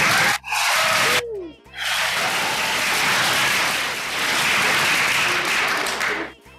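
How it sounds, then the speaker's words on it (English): Crowd applauding and cheering for Army veteran Richard Kaufman as he is introduced, a loud sustained wash of clapping with brief dips near the start and a gradual fade at the end. "They cheering for you, son."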